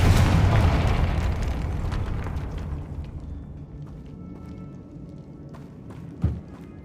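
An explosion from the Confringo spell in Hogwarts Legacy opens with a loud, rumbling boom that slowly decays, followed by a smaller thud near the end; no talking.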